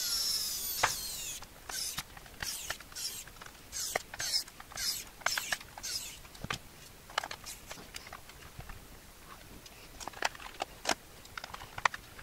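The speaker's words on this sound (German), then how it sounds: "Und jetzt schraube ich das wieder fest." A screwdriver drives screws back into a Commodore C64-C keyboard during cleaning and repair, giving a run of close, crisp ratcheting clicks and scrapes in irregular bursts with no talk.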